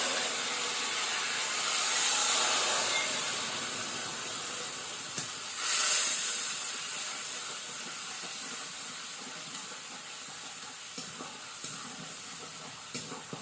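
Ginger and green chili paste with a little water fries in a pan, a steady close hiss and sizzle that swells twice and then settles, with faint scattered clicks and no voices.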